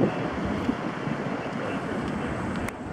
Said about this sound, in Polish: Znowu wiatr się zerwał, no.